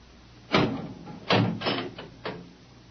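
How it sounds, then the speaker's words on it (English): A door in a radio drama opens with a few sharp, close knocks and creaks spaced across a couple of seconds, heard alone without speech. "Open the door."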